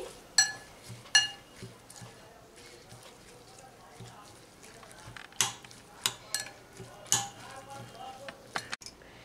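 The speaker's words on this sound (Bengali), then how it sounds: "হাফ চা চামচ বেকিং পাউডার ভালো করে এগুলোকে মিশিয়ে নিচ্ছি" A spoon stirs egg tomato pakoda batter with turmeric, garam masala and baking powder in a bowl, giving a scatter of sharp, close clinks and scrapes at an irregular pace over a quiet background.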